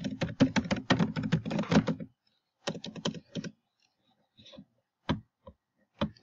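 Fingers type sign-up details on a computer keyboard, a quick run of close key clicks, a pause, then another burst and a few scattered taps.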